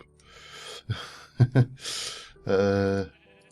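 A Minecraft sheep from the Feed the Beast modpack lets out a few close, loud bleats mixed with short puffs and snort-like sounds, ending in one long, sustained bleat.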